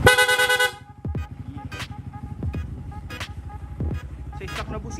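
A stock horn on a motorcycle gives a loud, close blast at the start, followed by a small engine idling unevenly with a few short blips and background noise.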